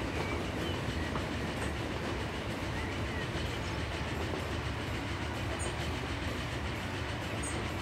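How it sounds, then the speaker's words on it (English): Steam train from the Transport Fever game rolling along a track, a steady dense rumble with faint clickety-clack of wheels running continuously at close range, no voices. "this train is going to be on this section of track"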